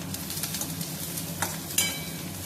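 Sliced onions fry and sizzle in a pan for mutton curry, a steady close crackle broken by the scrape and clink of a spoon stirring through them, with no voices.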